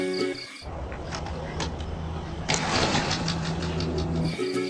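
A motorcycle engine starts up and settles into a steady rumble, loud and close, with a sharper surge of revving partway through.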